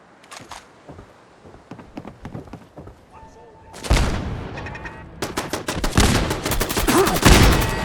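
Gunfire in Fallout 4, starting with scattered sharp shots, then heavy rapid bursts that grow louder and denser toward the end, with faint talk in the quieter opening stretch.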